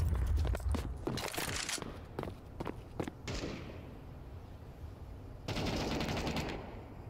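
Rapid gunfire in a Counter-Strike Wingman match, bursts of automatic shots near the start and a few single cracks, then a quieter stretch and another sustained burst, with no talk.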